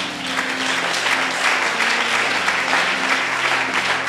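A church congregation applauds and cheers during a fasting and prayer service, a steady, dense wash of clapping that fills the whole stretch at a fairly loud level, with a faint sustained tone beneath it.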